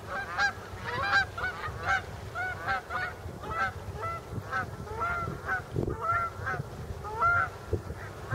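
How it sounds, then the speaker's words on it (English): A flock of flying geese honking repeatedly in a steady, overlapping chorus, fairly loud and close, with a low outdoor rumble underneath. "oh, geese are off flying."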